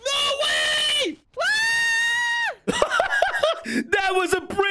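Minecraft characters let out two long, loud, sustained screams back to back, followed by a jumble of shrill, chattering cries.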